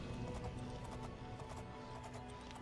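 Horse hooves clip-clopping at a steady pace in The Elder Scrolls IV: Oblivion, a faint rhythmic patter under game ambience with no talk.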